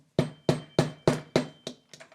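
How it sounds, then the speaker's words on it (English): A hammer taps a pen section into a 1952 Parker Vacumatic Emerald Pearl fountain pen, giving six or seven sharp, evenly spaced knocks that soften toward the end, close and alone. "We get out our hammer."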